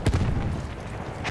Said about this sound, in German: Aufpassen! Granate raus!